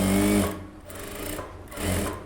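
A sewing machine runs in three short bursts of rapid stitching, sewing a seam about a quarter inch in around a blouse lining, with brief quiet gaps between runs.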